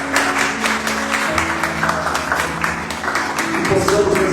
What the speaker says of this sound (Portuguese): Será que você pode aplaudir ao Senhor por essa palavra?